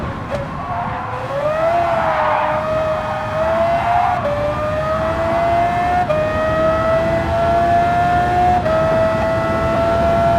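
An F3500A formula car in Gran Turismo 7 screams at high revs, its whining engine pitch climbing steadily and dropping briefly at each of three quick upshifts, loud and alone with no talking.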